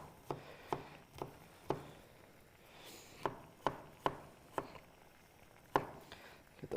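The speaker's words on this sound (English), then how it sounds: "So now that we got those, we're just gonna give them a nice little chop." A knife chops garlic on a cutting board in a home kitchen, landing about a dozen sharp, crisp knocks at an uneven pace with short pauses between them, close and fairly quiet.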